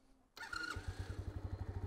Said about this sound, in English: The little 50cc engine coming to life.